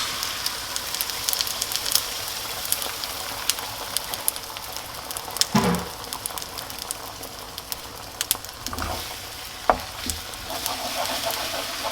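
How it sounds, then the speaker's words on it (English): Eggs frying in a pan with garlic, a steady quiet sizzle with occasional stirring scrapes and a few louder clatters of utensil against pan, no talking. "I'll chuck in the eggs"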